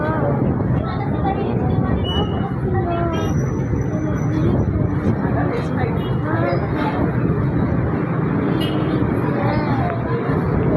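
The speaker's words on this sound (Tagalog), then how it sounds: "Heavy na ang traffic papunta sa south." A dense roar of road traffic, engines rumbling and droning together continuously, with voices and wind mixed into the busy background.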